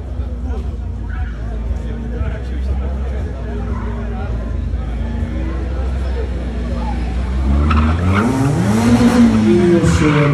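A race car launches at a Puławski Super Sprint event: a loud engine drones low, then revs rise in pitch as it pulls away, with crowd babble and talking in the background.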